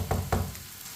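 Spices cooking in hot oil for an okra fry, a soft steady sizzle with two brief stirring scrapes near the start, close and fairly quiet, with no talking.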